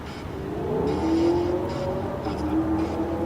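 A truck engine runs and pulls away outside a cemetery at night, a steady rising motor drone with a few tonal whines as it revs, fairly close and loud.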